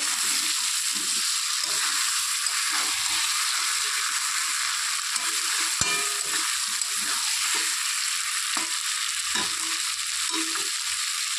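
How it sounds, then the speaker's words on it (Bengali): Chicken with potatoes sautéed uncovered in a pan for chicken kalia, a steady loud sizzle of frying with intermittent scraping stirs running throughout, no voices. "এখন 1 মিনিটের মতো কষিয়ে নেব"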